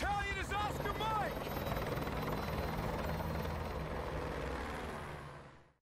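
Helicopter in the video game Call of Duty: Modern Warfare 2 Remastered, a loud steady rotor and engine roar that holds throughout, with brief radio-style chatter and whooshing effects near the start.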